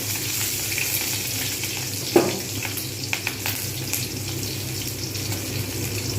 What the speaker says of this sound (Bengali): পেঁয়াজগুলো আবার লাল করে ভাজতে হবে হয়ে গেছে এবারে আমি দিয়ে দেবো শুকনো লঙ্কা কাঁচা লঙ্কা আবার একটু নাড়িয়ে নেবো